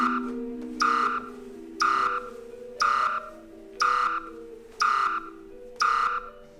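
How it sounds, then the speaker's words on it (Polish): An alarm sounds in evenly spaced electronic beeps, six sharp harsh tones about a second apart, each standing out loudly over a faint lower tone. "Włączył się alarm, ale nie mamy pojęcia dlaczego."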